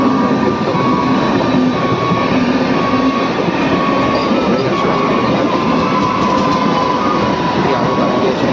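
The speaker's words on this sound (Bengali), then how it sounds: "এই রেল ট্রেনটার জন্য অপেক্ষা করতে হচ্ছে।" A train passes a railway crossing with a loud, steady rumble and rolling wheel noise that holds evenly from start to finish, with no talking.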